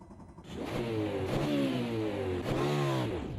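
A five-cylinder race car engine in the AMS2 racing game revs up through rising tones, drops briefly on a shift, then climbs again, loud and steady with no talk.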